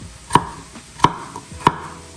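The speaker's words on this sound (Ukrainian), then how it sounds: "І так само робимо з іншою картопелькою. Ось так нарізаємо." A knife strikes a cutting board three times at an even, unhurried pace while cubing potatoes for Ukrainian borscht, each chop sharp, close and distinct with quiet gaps between.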